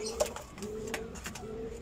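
Soft, low pigeon coos repeating close by, with faint fluttering and a quiet hum of background noise.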